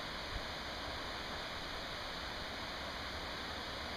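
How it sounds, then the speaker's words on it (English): Steady broadband rush of a distant waterfall in Algonquin Park's lake country, heard as constant, even running water with no breaks and no voices. "And that's the waterfall I was trying to climb to get to"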